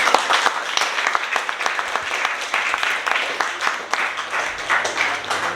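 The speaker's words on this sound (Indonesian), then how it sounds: "Tepuk tangan dong" Students in a high school classroom applauding a presenting group, sustained brisk clapping from many hands at close range, with a few voices underneath.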